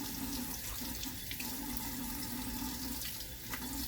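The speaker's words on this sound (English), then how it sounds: "This helps to have some running water" Tap water runs steadily into a kitchen sink while boiled potatoes are peeled for Southern potato salad, a continuous splashing stream with no talk.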